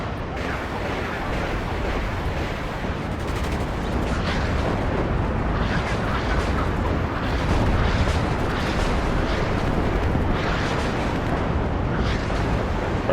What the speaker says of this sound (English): Rockets hitting well.